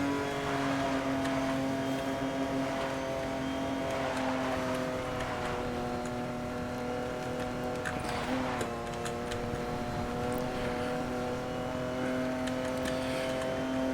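A car driving fast in Need for Speed: Most Wanted (2012), a steady, loud engine drone holding a high pitch with slight shifts as it speeds along, with faint ticking and clatter over it.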